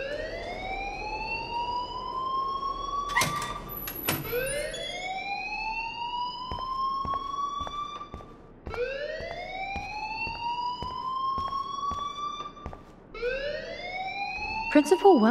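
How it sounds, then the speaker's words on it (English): A fire alarm wailing in the video game Life is Strange, a rising electronic siren sweep repeating about four times with sharp beeps, while people talk over it. "please turn off that alarm since that's your job"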